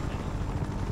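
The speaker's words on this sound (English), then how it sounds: "Now I got fucking helicopters now." Helicopters in the video game Just Cause 3 give a brief, steady rotor rumble, a loud low throbbing drone filling the short moment with no voices.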